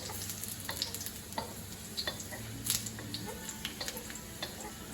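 Mushrooms partially cooking in garlic oil over low heat in a pan, a soft steady sizzle with light crackles and occasional stirring clicks, heard alone without talk.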